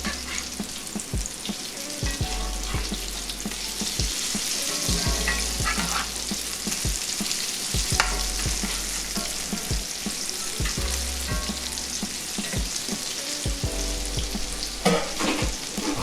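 Falafel patties sizzle steadily in hot oil, a continuous close frying hiss with scattered pops and occasional louder crackles across the whole stretch, no talking.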